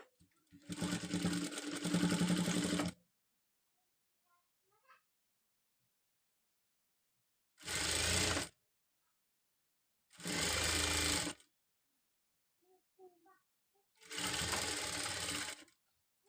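A sewing machine stitches a hook-and-eye strip onto a garment in four separate whirring runs, one long burst and then three shorter ones, close and steady, with quiet pauses between them and no speech over the motor.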